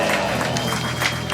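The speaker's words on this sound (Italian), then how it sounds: "Signore e signori, un applauso per Anthony Sasso." A studio audience applauds a guest arriving on an Italian evening talk show, a dense steady wash of clapping and crowd noise filling the whole moment at full volume.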